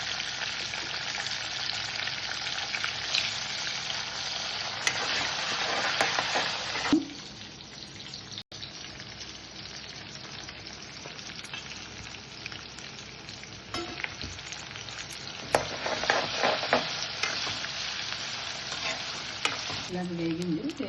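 Cashews, urad dal, cumin and fenugreek seeds fry in hot oil with a steady broadband sizzle and occasional stirring scrapes, dropping briefly quieter near the middle before rising again; no talking.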